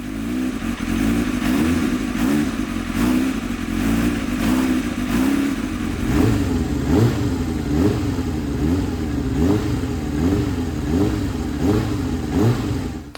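A rebuilt Kawasaki ZX7R motorcycle engine, warmed up after its first start, revs repeatedly with throttle blips rising and falling over a steady running note, close and loud with no talk.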